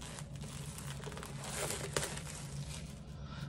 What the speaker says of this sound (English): let's unwrap this bad boy